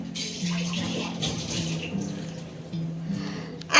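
Water runs steadily from a tap into a sink while something is washed, a close, even splashing flow.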